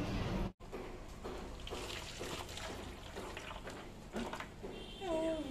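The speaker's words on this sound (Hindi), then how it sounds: "हम खोलते ही और थोड़ा पानी से ऐड करते हैं।" Water poured into a plastic fish delivery bag holding a red oscar, a soft continuous trickling and splashing with a brief break early on, fairly quiet and close, with faint voices in the background.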